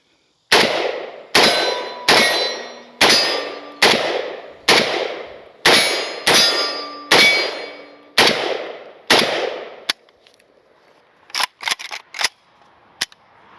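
Polish PAC Pioneer Sporter AKM rifle fires about ten loud, evenly spaced semi-auto shots with metallic ringing and decays, followed by a quiet pause and a few sharp clicks and clanks.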